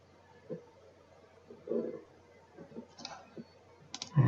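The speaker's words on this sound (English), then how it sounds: "click on Finish button" Mouse clicks while working in the NetBeans IDE: a few sharp, faint clicks scattered over a quiet room background, with soft incidental thumps and no talking.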